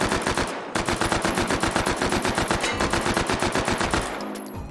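An MP5 submachine gun in the VR game H3VR fires a long, rapid automatic burst of evenly spaced shots, loud and close, then stops abruptly near the end.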